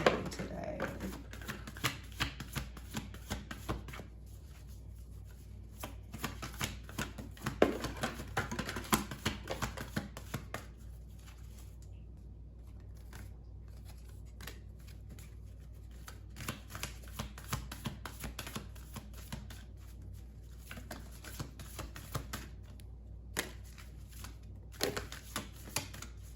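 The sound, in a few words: shuffling affirmation cards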